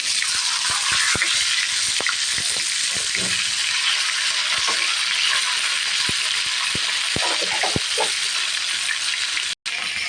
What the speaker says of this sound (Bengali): আমি আগে মরিচগুলো ভেজে নেব মরিচগুলো ভেজে তুলে নেব